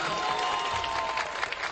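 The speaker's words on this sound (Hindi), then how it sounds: "एक मर्तबा जोरदार तालियों से इस्तकबाल कीजिए हमारे फारूक भाई का" A mushaira crowd breaks into loud, dense applause to welcome Farooq, a brief continuous burst of many hands clapping close by without speech.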